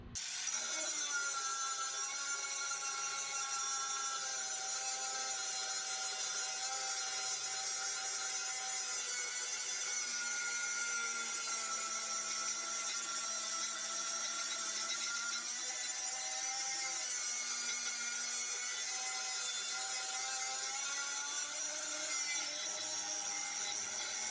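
A walk-behind lawn mower blade being sharpened gives a steady, continuous metallic grinding that stays even for the whole stretch, fairly faint and with no talking.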